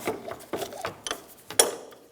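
A rear shock absorber from a 2009-2013 BMW 328i xDrive is clamped in a metal vise, giving a series of sharp clicks and ratcheting knocks at irregular intervals, close by and fairly crisp, with no talking.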